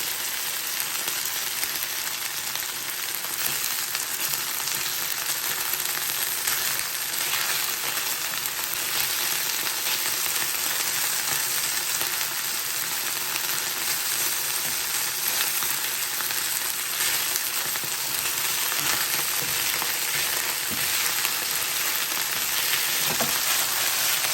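Chicken and vegetables stir-fry in a very hot pan, browning to golden, giving off a loud, steady, close sizzle that runs on evenly throughout with no voices.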